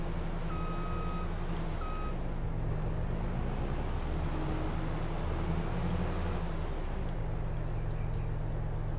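Truck reversing beeps in Farming Simulator 22, two short tonal beeps near the start over a steady low engine drone that continues throughout, fairly loud and close.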